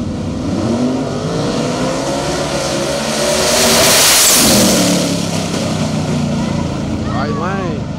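Loud car engines roar and rev as street-racing cars speed past in a dusk-to-dawn shootout, the pitch sweeping up and then dropping as they speed away, with a crowd noise underneath.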